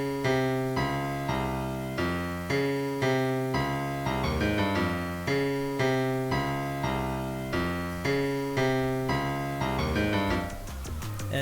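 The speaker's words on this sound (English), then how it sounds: "This super simple bass line, it just sounds like this." A simple, repeating Baton Rouge-style trap bass line made in FL Studio 20, in a steady rhythm, plucked notes looping several times, played alone with no voices.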